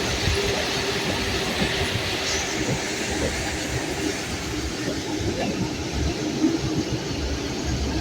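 A passenger train runs on rails between Karachi and Hyderabad, a steady loud rumble with rhythmic wheel clatter heard from inside the carriage, continuous for the whole stretch without talk.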